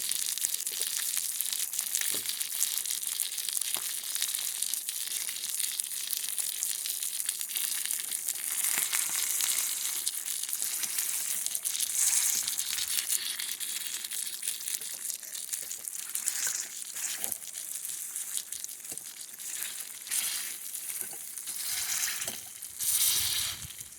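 Beef and rice cooking in a cast iron skillet, a dense, continuous crackling sizzle that stays close and fairly loud throughout, with occasional sharper pops and scrapes and no talk.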